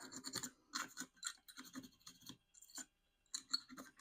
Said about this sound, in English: I will get my little fiberglass pen and just give those a little bit of a tickle as well